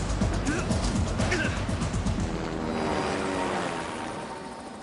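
A helicopter flies nearby, its rotor chop and engine roar heavy and continuous, with a loud low rumble that eases slightly toward the end.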